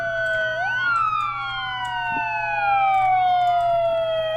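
Several video-game police car sirens wail at once, their pitches sweeping up and down and overlapping, loud and continuous with a low hum beneath.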